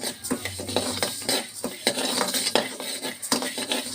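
A metal spoon scrapes and clinks steadily against a pan while rice, urad dal, peanuts and roasted chana are stirred and dry-roasted, with continuous close scraping and rattling.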